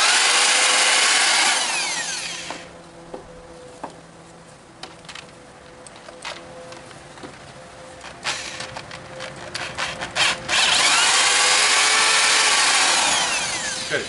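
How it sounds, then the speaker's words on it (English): A power drill bores wider pilot holes into wood for lag screw shanks on a porch swing frame. It whines loudly at first, drops to a quieter stretch broken by clicks and knocks, then whines loudly again. "now I'm going to pre-drill this a little wider to accept the shank"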